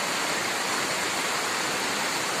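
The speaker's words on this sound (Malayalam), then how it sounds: "ഇവിടെ വെള്ളച്ചാട്ടമാണ്" A waterfall in a forest park, fed by streams, pours as a continuous broad roar of rushing water, loud and steady and close by, with no talking over it.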